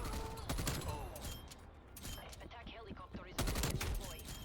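Rapid bursts of KSP submachine gun fire ring out in a Black Ops Cold War match on Nuketown, loud, close and clustered into several strings of shots with short pauses between them.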